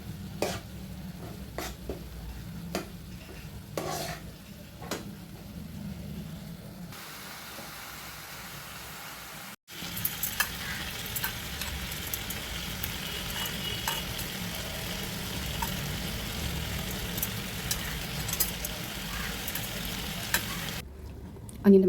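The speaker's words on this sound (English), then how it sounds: "Give that a good stir." Ground coriander, cumin and turmeric frying in a pan for butter chicken, a steady dense sizzle and hiss throughout with occasional soft stirring scrapes early on, close and continuous, briefly cutting out midway.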